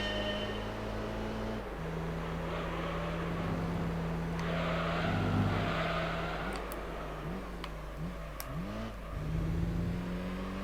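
A car engine in Gran Turismo 3, droning steadily, then downshifting with a string of quick rising revs and blips as it slows. It is loud and continuous.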